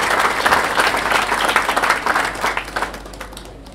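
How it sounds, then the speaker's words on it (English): Audience applause at a youth football academy award show in Ballymoney, honouring the coaching team: dense, sustained clapping from a crowd, loud and steady, tapering slightly toward the end. "Big round of applause for them as well."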